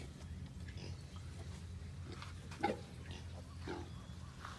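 Newborn piglets, eight of them in a litter with their sow on a farm, grunting softly and intermittently over steady low pen noise, with one brief louder squeal-like burst midway.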